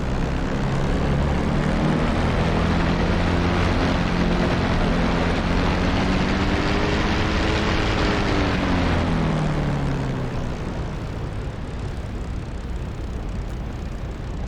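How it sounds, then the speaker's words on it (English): A light propeller airplane taxis on a runway, its loud, steady engine drone rising with a bit of throttle, then easing back slightly near the end, with no talking. "Okay, let's turn the aircraft around. Left brake. Bit of throttle."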